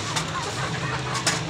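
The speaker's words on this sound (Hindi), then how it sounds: "सारी असील मुर्गी है जी।" Aseel hens at a poultry sale in Sahiwal, giving soft steady clucks and low fowl chatter over a continuous background hum, with no talk during the moment.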